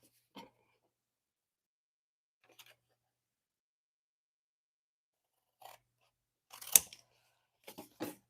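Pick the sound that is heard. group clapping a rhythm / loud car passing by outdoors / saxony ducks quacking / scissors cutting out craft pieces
scissors cutting out craft pieces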